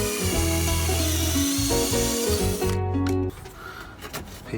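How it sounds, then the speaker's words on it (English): A hand drill bores pin holes in wood for a contemporary sun lounger, a close rhythmic grinding with wavering pitch that stops abruptly near the end, followed by faint handling noises. "Now I'm gonna drill holes for pins like this."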